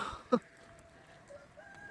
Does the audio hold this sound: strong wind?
no